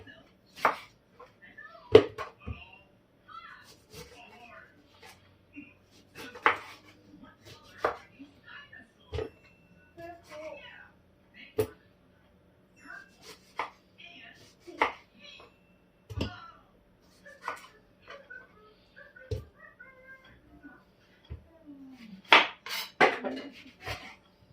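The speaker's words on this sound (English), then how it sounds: "I chop them into smaller size like this" Vegetables chopped into smaller pieces with a knife on a board, a series of crisp, separate knocks at an irregular pace, fairly close, with quiet talk between the cuts.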